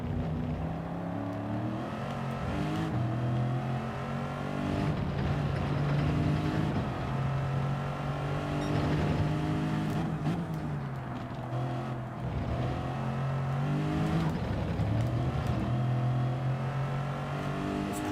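A race car engine in the Gran Turismo 7 video game drones loudly and steadily through a lap, its pitch rising and falling as the throttle is modulated and eased through corners, with no talk.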